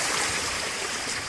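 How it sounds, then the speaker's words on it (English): Rainwater running across a flooded backyard toward a creek, a steady broadband trickling rush of shallow flowing water, close and continuous for a moment with no voices. "right now we've got some nice flowing water"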